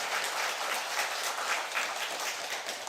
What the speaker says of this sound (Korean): 한번 하나님께 여호와 하나님께 큰 박수로 하나님 올려드립니다.